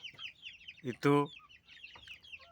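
Young chickens about two and a half months old, a cross between laying hens and Bangkok fighting fowl, cluck and chirp close by, with one loud harmonic squawk in the middle and a voice speaking briefly.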